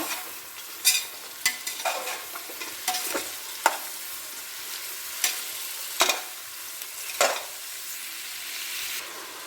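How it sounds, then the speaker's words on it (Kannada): Mushrooms frying in a little oil: a soft, low sizzle broken by several sharp scrapes and clinks of a spoon stirring in the pan, spaced irregularly, close but fairly quiet, with no one speaking. "ಮಶ್ರೂಮ್ ಇದ್ದೀನಿ ಒಂದು ಸ್ವಲ್ಪ ಎಣ್ಣೆಲಿ ಒಂದು ಸ್ವಲ್ಪ ಫ್ರೈ ಮಾಡಿ"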